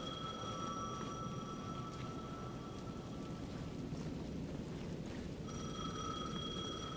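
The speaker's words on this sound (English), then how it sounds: "The payphone at the edge of the plaza was ringing again." A payphone rings in the video game Alan Wake II, its steady high bell tones sounding in repeated bursts over a constant bed of rain-like ambient noise, with no talking.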